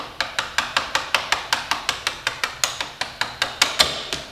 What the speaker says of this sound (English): If you need a little assistance, you just grab a little hammer and some light tapping